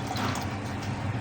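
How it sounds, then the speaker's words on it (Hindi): Fresh water is poured into falsa juice, a brief steady splashing fill of liquid, close and moderately loud, with no talking. "इसमें फ्रेश वाला पानी ऐड करेंगे।"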